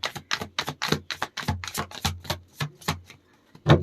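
Tarot cards shuffled by hand in a rapid run of crisp, evenly spaced riffling slaps, close and fairly loud, ending with one firmer tap and no talk.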